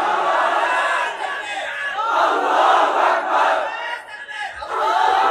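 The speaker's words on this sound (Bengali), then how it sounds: "জোরে সোরে একজনে বলেন তো নারায়ে তাকবীর।" A large gathering at a religious mahfil answering with a loud, unified shout of the takbir, a massive swelling roar of many voices that rises and falls in waves, close and dense.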